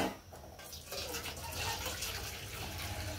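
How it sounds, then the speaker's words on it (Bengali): Hot water is poured for a bath as a steady, close gushing stream that grows fuller after a brief softer start, with faint voice traces underneath. "মজা লাগে গরম জল দিতে।"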